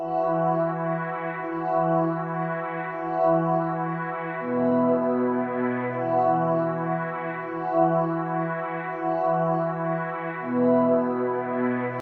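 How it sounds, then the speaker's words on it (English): A soft synth pad from the Expand plugin's Light into the Darkness preset, dry with no effects, sustains smooth layered chords that shift every few seconds, playing alone with a gentle, even swell. "I open up Expand, Soft Pads, and then I went to this Light into the Darkness preset"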